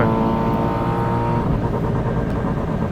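A drift car's engine revving at Mobara Twin Circuit during a D1 regional round, loud and close, holding a high steady tone then wavering as the revs pull through.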